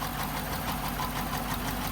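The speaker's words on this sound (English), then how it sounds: "All right, so now we got this thing started. You can really hear the tapping." A 2014 Jeep Grand Cherokee engine idles with a rapid, even mechanical tapping riding over a steady low rumble, heard close and continuous.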